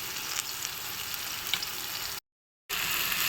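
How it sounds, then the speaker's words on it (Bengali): Bitter gourd fries in a pan with a steady, soft sizzle, broken once by a brief gap of silence before the sizzling resumes. "উচ্ছেটাকে হচ্ছে আগে একটু আলাদা করে ভেজে নেই।"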